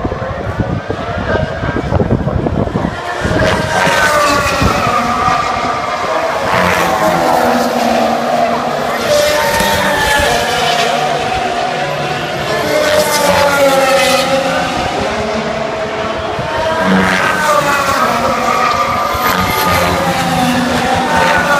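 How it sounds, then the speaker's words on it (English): Formula 1 cars lapping Silverstone circuit at the 2014 British Grand Prix, a loud continuous roar of engines sweeping past with rising and falling pitch, heard from the grandstand with crowd noise underneath. "the Formula 1 cars started to go round"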